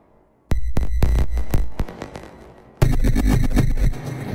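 Generative electronic tones from the Relic Flow AUv3 app running through an echo effect: sharp repeated hits that trail off in decaying repeats, then a denser, sustained burst of sound.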